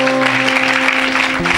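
Church congregation applauding for Jesus at a deliverance service, a dense, steady wash of clapping filling the room alongside a sustained musical tone, continuous and fairly loud throughout.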